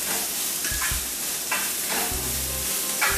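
Onions sautéing in a pan with a loud, continuous sizzle and occasional scraping stirs, close up with no voices.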